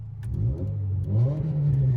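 A car with a broken exhaust, part of the pipe torn off, revs in two rising surges, its rough, droning engine note close and moderately loud.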